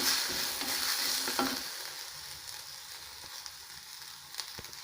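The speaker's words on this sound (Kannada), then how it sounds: "ಈರುಳ್ಳಿ ಎಲ್ಲ ಸ್ವಲ್ಪ ಚೆನ್ನಾಗಿ ಫ್ರೈ ಆಗಬೇಕು." Chopped onions frying in a pan for masala puri, a steady close sizzle with a few scraping stirs early on, softening slightly as the frying continues.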